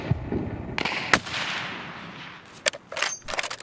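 Sniper rifle fire in the shooter game Escape From Tarkov: a few sharp, loud shots spaced apart with echoing tails and some smaller clicks and rattles between them, no talking.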